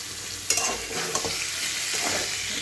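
Fried pointed gourd pieces tossed into a hot pan with a little garam masala, crackling in a steady loud sizzle with sharp stirring clatters near the start and scattered scrapes throughout, no voices.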